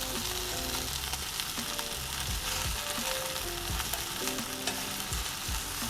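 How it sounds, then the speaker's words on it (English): Beef steak strips sizzle and fry steadily in a hot, oiled pan, a dense continuous crackle with occasional stirring clatter, close and alone without voices. "A little bit of oil goes in your pan. Steak goes in, steak strips rather."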